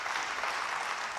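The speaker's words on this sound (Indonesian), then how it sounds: "Yang percaya beri tepuk tangan bagi dia" A church congregation claps in a dense, sustained burst of applause, steady and fairly soft, with no voices heard over it.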